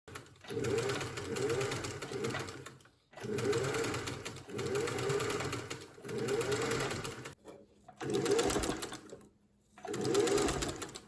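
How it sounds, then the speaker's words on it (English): A sewing machine stitches a ruffle onto a large petticoat, running in rapid close-up chattering bursts of a couple of seconds each with short pauses between them. "I'm going to sew the second ruffle onto where I sewed on the first ruffle"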